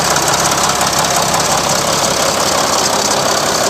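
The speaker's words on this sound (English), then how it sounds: "Just the old typical Mercedes diesel." A 2010 Mercedes-Benz Sprinter diesel engine idles close and loud, a steady, even clatter with a faint knocking texture and no talking.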